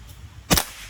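A single sharp crack from a full-CNC stainless PCP Bocap Sampoerna Guns air rifle, loud and close, with a quick decay.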